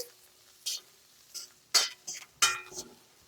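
Ingredients for vegetable chitranna, including curry leaves, roasting and being stirred in a pan, giving a few separate scraping, clinking strokes with a soft sizzle and little background noise.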